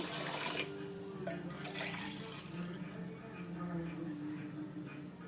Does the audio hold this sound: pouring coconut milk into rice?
yes